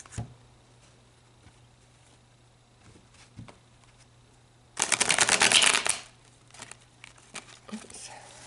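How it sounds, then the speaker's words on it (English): A deck of tarot cards is shuffled in one loud, close riffling burst lasting about a second, preceded by quiet handling taps and followed by soft card rustles. "So let's pull more cards and go deeper."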